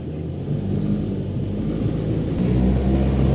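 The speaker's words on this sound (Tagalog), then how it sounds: "Okay na yung takbo ng sasakyan niya." A Toyota Vios with a shift solenoid B circuit fault, heard from inside as it drives along the road: a steady low engine and road rumble, loud and close, building slightly toward the end.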